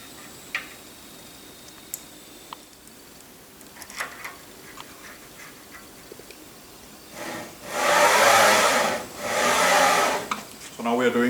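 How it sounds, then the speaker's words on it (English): A lead-screw Piranha CNC machine's X-axis travels along its lead screw, producing two loud, sustained whirring runs near the end after a stretch of quiet with faint scattered ticks. "Now I'll just verify that the X-axis moves smoothly."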